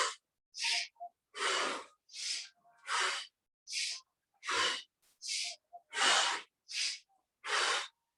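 Deep, forceful yoga breathing in a steady rhythm, about a dozen loud, close inhales and exhales alternating with brief silences.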